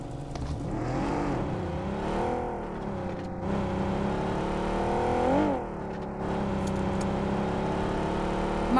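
A vehicle in PUBG Mobile drives with a continuous engine drone that rises and falls in pitch as it accelerates and eases off. It sounds close and steady, with no talking.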